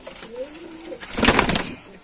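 Pigeons cooing at close range in a loft of Punjabi Malwai pigeons, several low soft coos followed by a louder burst of cooing and a rustle of movement.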